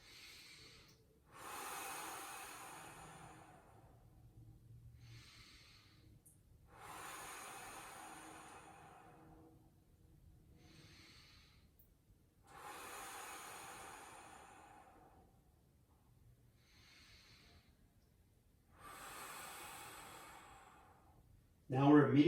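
Slow, deliberate breaths during a lower-body stretching hold, with long airy inhales and exhales in an even repeating rhythm, close-miked and soft, with a brief louder noise at the very end.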